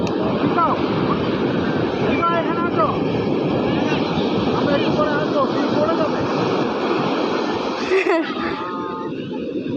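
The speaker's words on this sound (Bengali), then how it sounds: "বড় ঢেউ আসলে পড়ে যাবে" Sea waves wash onto a beach in a steady loud roar of surf and wind buffeting the microphone, with people talking and calling out over it near the shore.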